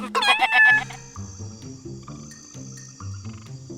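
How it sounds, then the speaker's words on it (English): A frog croaks in a rhythmic, repeated series of calls, loud and close at first, then settling into a steady pulsing croak with chirping insects in the background. "Good day, little frog."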